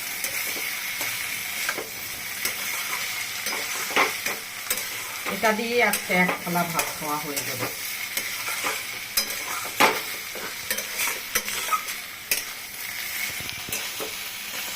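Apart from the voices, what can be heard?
stirring fried poppy seed into frying pointed gourd curry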